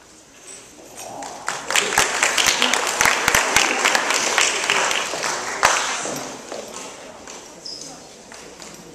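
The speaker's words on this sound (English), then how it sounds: "you only applaud when Miss Miller talks" Applause from an audience at a school trip meeting, a dense patter of many hands that builds quickly, holds for several seconds and then thins out toward the end.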